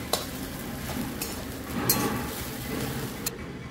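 Finely chopped potatoes are stirred into khichdi in a pan, a soft steady sizzle with a few sharp spoon-on-metal clinks and scraping strokes, close and with no talking.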